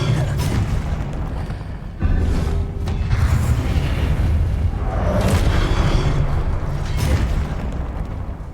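Confringo fire spells blasting in Hogwarts Legacy, a dense run of booming explosions layered over continuous combat rumble and game effects, loud and sustained with repeated fiery bursts.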